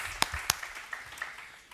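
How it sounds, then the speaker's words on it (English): A small book-launch audience gives a sparse round of applause, a couple of sharp close claps standing out over a thin, scattered patter that fades quickly. "Let's give him or her a round of applause."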